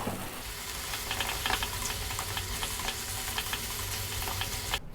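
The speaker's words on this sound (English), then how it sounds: "3 more minutes, stirring, stirring, stirring, getting that sauce in, on and around our pasta" Penne pasta is stirred through a creamy mushroom sauce in a pan, a continuous low sizzle with wet scraping and soft clicks of the utensil, steady throughout without any talking.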